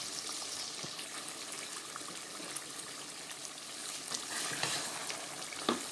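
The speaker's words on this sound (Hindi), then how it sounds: "तो अब इसको मैं अच्छे से मिक्स करूँगी" Chicken white karahi stirred in a pan over a medium flame, giving a steady wet sizzle with soft scraping and bubbling throughout, no voices.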